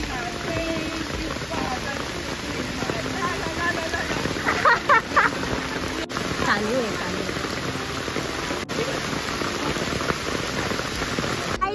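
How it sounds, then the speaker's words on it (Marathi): Heavy rain pours steadily at Rajiv Gandhi Park, a dense, continuous hiss of drops on surfaces filling the whole clip, with voices faintly talking underneath. "तिथे तर एवढा पाऊस पडत होता"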